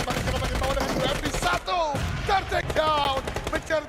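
Bursts of UMP submachine gun fire in a PUBG Mobile esports match, rapid cracking shots mixed with other game sounds and overlapping commentary.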